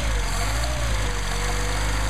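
Mercedes 190SL engine with Solex carburetors at a fast cold idle, a steady low rumble with a constant high whine over it, heard close and continuous.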